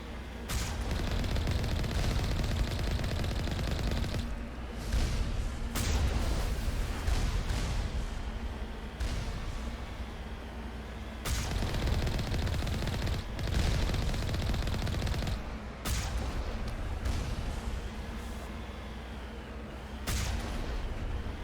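Cannons firing incendiary rounds in the Mass Effect video game: dense, sustained bursts of heavy rapid fire and booming blasts, broken by short pauses, loud and continuous.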